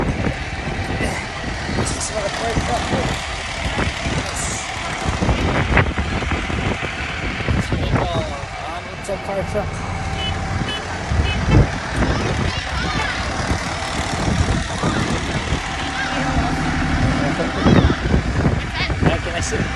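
Fire truck engine idling with a steady low rumble and faint reversing beeps, heard from inside the cab, with people talking over it throughout.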